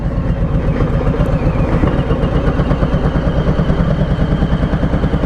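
Harley-Davidson Sport Glide motorcycle engine running loud and close, a deep uneven rhythmic V-twin throb with a heavy low rumble that pulses steadily without letup.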